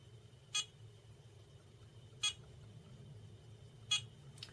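A Tria 4x hair removal laser firing at full strength on an arm, giving three short sharp beeps spaced about one and a half seconds apart over a faint steady hum.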